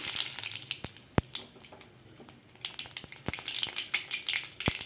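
Mustard seeds spluttering in hot oil for a Chettinad-style tamarind rasam, a sizzling crackle with scattered sharp pops, close up and steady, with no talking.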